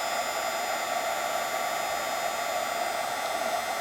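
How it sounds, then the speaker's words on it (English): A heat embossing tool blows a steady, loud, unbroken whir of hot air while melting clear embossing powder into a shiny finish. It runs alone with no voices. "Now I'm going to start to emboss this, and you're going to see that clear powder is going to come up nice and shiny."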